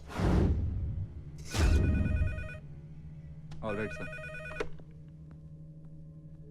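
A phone rings in a dramatic scene, with two loud whooshing swells at the start followed by a clear electronic ringtone that trills in short repeating bursts, and someone speaks briefly over it.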